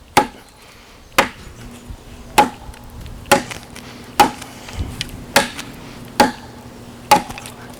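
Repeated heavy chops of a chopper knife biting into wood, eight sharp impacts spaced roughly a second apart in a steady rhythm, close and distinct with quiet pauses between.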